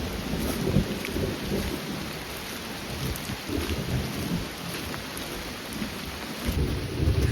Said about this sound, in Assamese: পুৰা ঢেৰেকণি মাৰি আছে